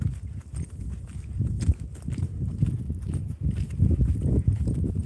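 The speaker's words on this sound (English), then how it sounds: "We've got some beautiful halflinger horses" Haflinger horses walking on a trail in Colorado, hooves clip-clopping in a steady, uneven rhythm against a continuous low rumble, fairly close and moderately loud.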